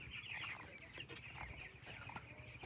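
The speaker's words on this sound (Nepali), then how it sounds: "अनि यहाँनिर हाम्रो कुखुरा" Backyard chickens near their coop cluck and murmur in a soft, busy cluster of short calls, close by but quiet, with faint background noise around them.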